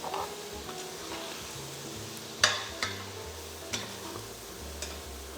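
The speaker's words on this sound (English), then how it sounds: "Stir-fry this gently as the sauce comes to a boil." Rice noodles for mee tai bak are stir-fried in a pan as the sauce comes to a boil, giving a soft, low sizzle broken by a few sharp scrapes and clinks of a utensil against the pan.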